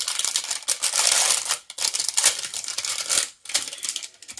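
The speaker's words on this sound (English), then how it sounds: "To take it out of the package, so sorry for the noise." A brush scrubby is pulled out of its crinkly plastic package, giving loud, close, continuous rustling, crackling and tearing with a few brief pauses.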